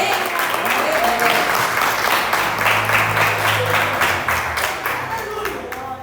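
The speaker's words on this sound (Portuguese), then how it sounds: "Vamos receber a nossa pastora aplaudindo bem forte ao Senhor" Church congregation applauding loudly to welcome the pastor at an evening service: dense, steady clapping from a large crowd throughout, fading slightly toward the end, with faint voices mixed in.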